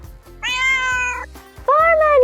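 A cat meows twice, loud and close: a long drawn-out call followed after a short pause by a second, slightly falling meow, heard in a children's animal guessing game.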